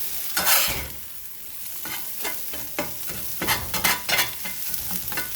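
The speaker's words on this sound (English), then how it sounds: "all I did was add this to my cast iron with some oil, put some Tony's seasoning on there, and we're just trying to get them all nice and browned up" A seasoned leftover potato mixture browning in oil in a cast iron pan, crackling with steady frying hiss while a spatula scrapes and stirs in quick irregular strokes, close and moderately loud.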